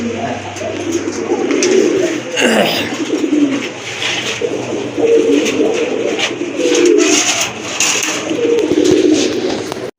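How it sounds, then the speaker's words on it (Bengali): Several large fancy pigeons coo in low, repeated rumbling phrases that overlap throughout, with a steady background hum and occasional faint voices nearby. "অনেক বড় সাইজের কবুতর"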